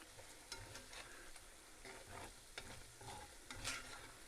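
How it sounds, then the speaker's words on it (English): Peppers sautéing in a pot for squirrel sauce piquante while a spoon keeps them moving, a soft ongoing sizzle broken by regular scraping and stirring strokes against the bottom, close and fairly quiet. "I don't want nothing to stick on the bottom. That's why I'm steady moving it around."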